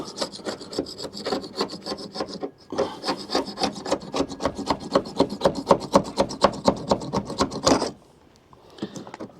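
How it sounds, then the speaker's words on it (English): A scraper working thick coating off the hull of an old yacht, with rapid rhythmic rasping strokes close up, a short pause, then a long even run of scrapes that stops abruptly. "I'll get a bit of a scraper on this and see if we can get some of that thick stuff off"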